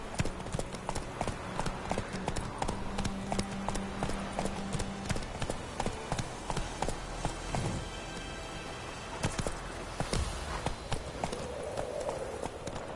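Roach, the horse in The Witcher 3, trots with clear rhythmic hoof clip-clops close by, a steady beat throughout with a little talk in the background.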